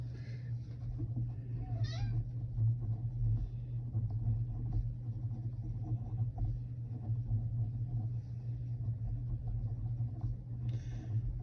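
A house cat meows a couple of times in the background, short and fairly faint, over a low, steady indoor rumble and hum.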